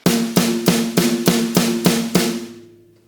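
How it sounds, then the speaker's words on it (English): Eight crisp snare hits land in an even, steady pulse, each with a bright rattling crack and a short ring that hangs after the last one. "You could play a snare on every eighth note."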